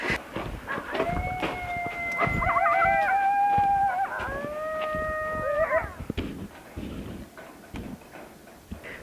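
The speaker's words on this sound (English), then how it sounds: "Man, the coyotes are out." Coyotes howling outdoors at night in cold, rainy weather, a chorus of rising and falling wails in two overlapping bursts lasting several seconds, moderately loud and somewhat distant, with no talk over them.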